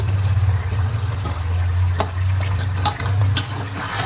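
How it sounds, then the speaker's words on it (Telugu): Chicken for biryani fries in a pan with a steady, close sizzle and occasional scraping taps of stirring, over a low background hum. "చూడండి ఇంకా కొంచెం వేగాలి చికెన్"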